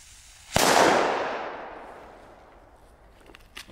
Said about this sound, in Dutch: Dus we gaan kijken hoe hard die knalt, of hoe snel die knalt.